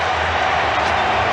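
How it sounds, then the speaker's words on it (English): A packed stadium crowd roars continuously at a rugby league State of Origin match between Queensland and New South Wales, a dense, loud, unbroken wall of voices. "Listen to the crowd."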